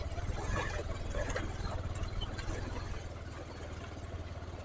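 Motorbike engine climbing a hill road toward a mountain temple, a steady low throbbing drone with continuous mid-range rumble that stays fairly loud and close throughout.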